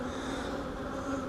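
A dense, steady hum of many honeybees buzzing around an open hive during an inspection, continuous and fairly close with no voices.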